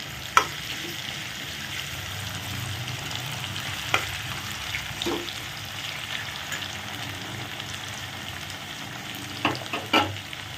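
Vegetables frying in oil in a covered pan on low flame for a Bengali green-banana and prawn dish, with a steady soft sizzle throughout and a few sharp clinks and scrapes of stirring near 0.4, 4 and 10 seconds.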